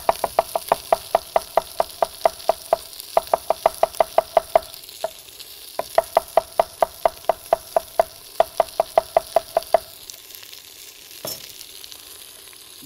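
Thinly sliced onion fries in a pot for cioppino. A faint sizzle sits under a fast, regular series of sharp knocks from stirring against the pot, with a few brief pauses.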